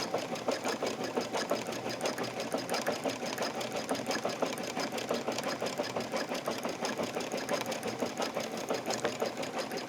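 A Brother embroidery machine stitches couched yarn onto an in-the-hoop pillow, producing a fast, steady mechanical rattle of needle strokes that runs loud and unbroken throughout with no talking.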